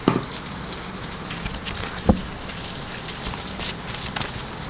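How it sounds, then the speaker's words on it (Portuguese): Rain falls steadily on a cold day in Rio, a soft continuous hiss with a few sharper drop taps scattered through it and no talking over it. "Chuva com frio aqui no Rio."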